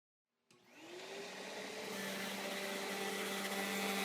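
A Riccar Vibrance upright vacuum cleaner, model VIBE, switches on over a hard floor and runs, its motor rising from silence into a steady, loud whirring hum that keeps building slightly in pitch and volume.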